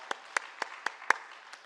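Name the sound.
congregation applause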